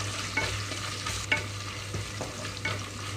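Fox nuts and tomato sizzle in oil over a medium flame in a close, continuous hiss. Rhythmic scraping strokes of stirring come roughly once a second.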